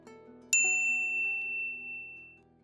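A single bright bell ding strikes sharply and rings out with a clear, slowly fading tone over a faint low musical bed.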